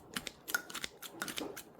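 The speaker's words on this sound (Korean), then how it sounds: "이렇게 두 손을 이용해서 송송 썰어줘서 가위로 좀 다진다는 느낌으로 하시면 돼요" Kitchen scissors snipping kimchi for bacon kimchi fried rice, a series of quick, crisp irregular cuts, close and fairly quiet, with no voice over them.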